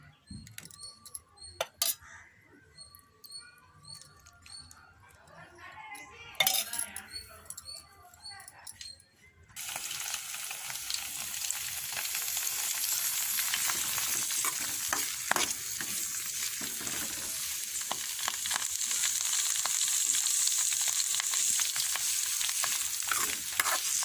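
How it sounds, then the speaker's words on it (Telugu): Carrots frying in oil in a pan for a carrot pachadi, starting with scattered stirring clatter and then breaking into a loud, steady, close sizzle that holds for the rest of the clip. "ఇప్పుడు ఈ క్యారెట్ని నూనె వేసుకొని మంచి నూనె వేయించుకుందాం"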